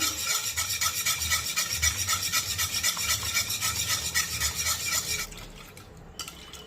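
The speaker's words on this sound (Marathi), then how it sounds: "आणि आता ही भाजी आपण घोटून घेऊया" Cooked dill greens and dal are mashed together in a pot with a steady, close rasping and rubbing rhythm that carries on for several seconds, then cuts off abruptly near the end.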